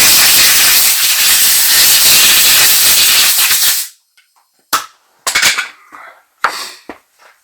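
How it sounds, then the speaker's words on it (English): A loud, close burst of compressed air blasts steadily for about four seconds while cleaning a Husqvarna or Gardena robot mower wheel motor, then stops, followed by a few short clicks and clatters of parts. "And then some compressed air."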